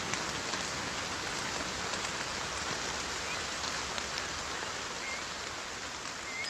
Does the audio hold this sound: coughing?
no